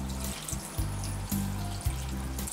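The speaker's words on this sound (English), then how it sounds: "A cup of water, add some water" A cup of water is poured into a pot of Sri Lankan cabbage curry seasoned with curry leaves, chili and fenugreek, giving a soft, close splashing trickle with a few brief thuds.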